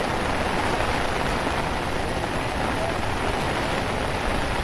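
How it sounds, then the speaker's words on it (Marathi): Heavy rain pours down at Vandri Lake dam in a steady, dense hiss that stays loud and unbroken throughout, with no voices standing out. "पाऊस पण जाम आला"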